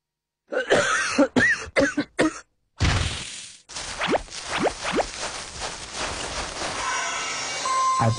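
Several sharp coughs open a herbal cough remedy advert, a quick run of close, loud bursts followed by a pause, then other short sound effects and a brief vocal bit.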